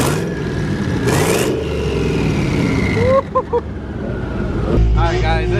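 Cars at a crowded car meet rev their engines in a rev battle, loud rising and falling roars with sharp bursts near the end, mixed with voices and crowd noise close by.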